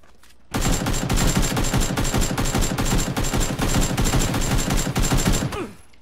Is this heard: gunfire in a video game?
yes